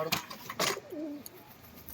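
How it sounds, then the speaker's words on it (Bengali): Pigeons give a few soft, low coos after being released, close by, with brief fluttering bursts in between and no talk. "দেখুন পায়রা দুটোকে ছেড়ে দিয়ে তাকে শক করাচ্ছি।"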